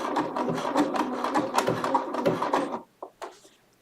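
A Bernina sewing machine stitches wool in a steady, fast mechanical run for most of the moment, then stops abruptly, followed by a couple of brief clicks and knocks in quiet.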